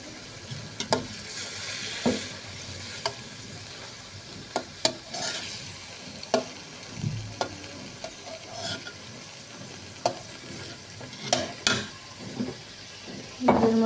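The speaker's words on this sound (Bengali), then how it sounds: "এবার এর মধ্যে টমেটো এবং আলুটাকে আবার ভালোভাবে কষিয়ে নিতে হবে" Tomatoes and potatoes stir-fried in a pan for a fish curry, a steady sizzle broken by repeated sharp scrapes and clinks of the spatula against the pan.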